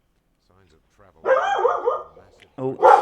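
A dog barks and whimpers in short bursts close by, interrupting a man's speech, with a couple of sharp yips near the end.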